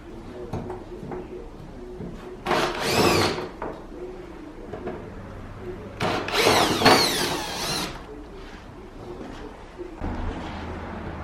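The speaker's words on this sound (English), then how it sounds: "all I'm going to do is literally go around all these edges here with a grinding wheel, just to rough this up as much as I physically can" A grinding wheel roughs up the edges of a car body kit on an R34 GTR in two loud bursts of high whining abrasion, separated by quieter stretches of background noise.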